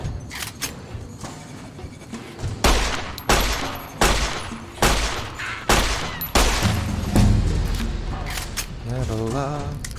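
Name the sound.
pistol gunfire in the video game Fallout: New Vegas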